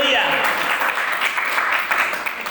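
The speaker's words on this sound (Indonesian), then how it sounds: "Tepuk tangan yang meriah untuk Tuhan" A church congregation applauds for God during a sermon, sending up a loud, continuous wash of clapping, with a voice speaking briefly at the start.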